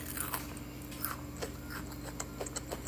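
Crunchy bites and chewing on a viral TikTok chicken nugget coated in super-crispy bubble crumbs, eaten with sambal geprek: a steady run of close, crackling crunches with no talking.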